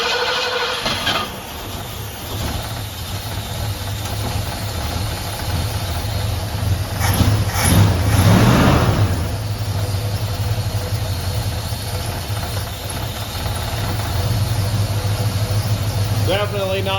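A car engine cranks and catches, then settles into a steady idle with a surge in revs partway through, heard close alongside someone talking.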